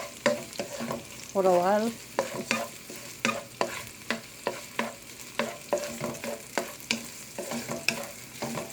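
Garlic and the white ends of green onion stir-fry in a pan for chicken chow mein, a soft steady sizzle broken by regular scraping strokes of the stirring utensil, with a brief word of talk.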